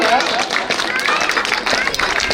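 Audience at a school stage event for the 26 January celebration clapping and cheering, a dense, steady wash of applause with crowd voices mixed in throughout.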